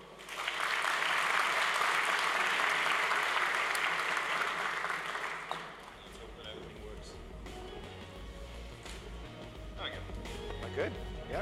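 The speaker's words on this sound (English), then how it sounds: "Please give a round of applause to Bob Quillen." A keynote audience at a developer conference in Berlin applauds loudly for about five seconds, the clapping then dying away into murmurs, shuffling and scattered movement in the hall.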